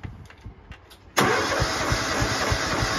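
A small tractor engine cranks and catches at about one second, then settles into a steady, loud idle after a quiet moment with faint background sounds.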